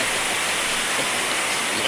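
Floodwater rushes steadily past on a rainy day, a loud, continuous wash of flowing water and rain noise with no break across the short stretch.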